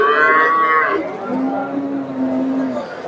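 A cow at a busy Bangladeshi cattle market lets out a loud, close, drawn-out moo that drops from a higher call to a long low bellow, with faint crowd noise behind.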